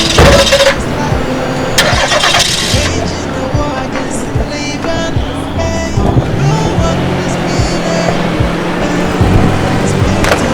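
A car engine cranks and starts, then settles into a medium idle rumble nearby, with scattered clunks and a voice briefly heard over it.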